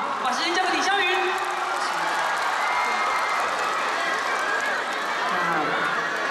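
A live concert crowd applauding and cheering to welcome a singer, dense sustained clapping with whoops and shouts throughout.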